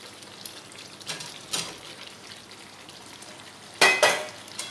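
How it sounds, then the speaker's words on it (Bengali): Fried potatoes being stirred into frying chicken masala, a low steady sizzle with a few scraping stirs and a sharp louder burst of spatter near the end, no talking. "আলুগুলো দিয়ে নাড়াচাড়া করে খুব ভালোভাবে মিশিয়ে নেব"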